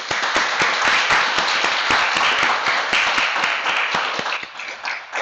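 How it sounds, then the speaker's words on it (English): Loud, close applause fills a National Honor Society induction ceremony, with a few distinct near claps punctuating the steady crowd clapping for several seconds. "Please join me in thanking them with a round of applause."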